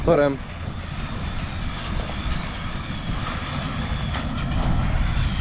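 A John Deere tractor pulling a flatbed trailer approaches during straw hauling, its steady low engine drone rumbling throughout and growing slightly louder toward the end, with people talking over it.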